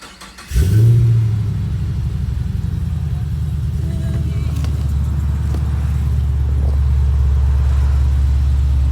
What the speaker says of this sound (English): The engine has been modified slightly just for air intake and exhaust.